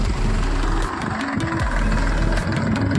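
A tractor engine runs steadily nearby on a farm at wheat-sowing time, with a loud, low, chugging drone and a faint knocking texture throughout.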